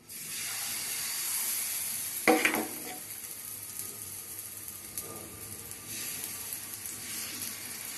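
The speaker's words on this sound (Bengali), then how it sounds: "এখানে চাটুতে তেল দিয়ে দিলাম, তেলটা একটু গরম হোক।" Oil heating on a flat griddle pan gives a steady, continuous sizzle and hiss. A brief louder crackle flares up near the start, and the sizzle carries on evenly with no voices.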